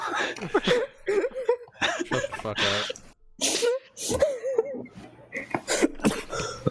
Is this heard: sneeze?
yes